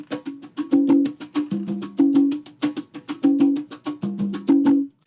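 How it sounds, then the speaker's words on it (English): Afro-Cuban tumbao pattern played on what sounds like conga drums, crisp open and slap strokes repeating in a steady syncopated cycle, close and loud with no talking. "One basic pattern is called the tumbao"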